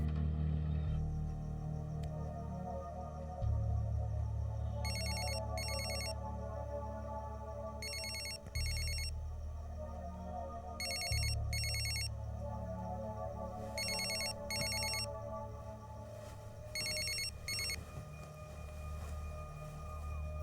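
A telephone rings in repeated double bursts, about five rings in a row over a steady low background hum, with no talking, in a crime thriller film scene.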